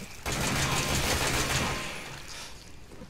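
Automatic gunfire from a weapon in Resident Evil 7, a loud, rapid burst lasting about two seconds that then trails off into echoing decay, with no talking.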